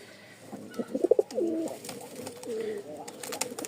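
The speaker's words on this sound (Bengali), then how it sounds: "এই এক জোড়া রাজশাহী টাইগার গিরিবাজ, নরের ডাকটা আগে দেখাই" A male Rajshahi Tiger Giribaj pigeon gives a run of throaty coos, a louder burst of several notes followed by softer repeated calls, close to the listener amid faint background noise.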